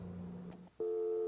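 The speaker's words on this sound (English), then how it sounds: "give it a few seconds for the dial tone" A low steady telephone dial tone hums through a computer modem's acoustic coupler, breaks off briefly, then a higher steady tone starts and holds to the end.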